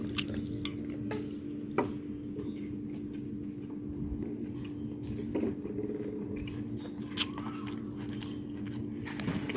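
Cutlery clinks and scrapes against a plate while someone eats salmon in Japanese-style sauce, with scattered sharp taps and quiet chewing over a low background hum.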